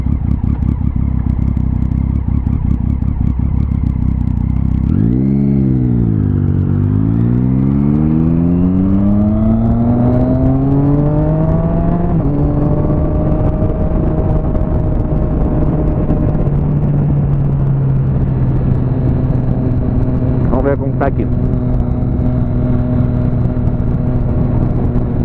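A Triumph Street Triple motorcycle idles, then its engine revs and pulls away while riding, climbing through rising pitch sweeps before settling into a steady drone with wind noise, close and loud throughout.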